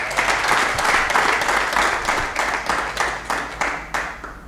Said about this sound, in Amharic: ጭብጨባው ያንሳል።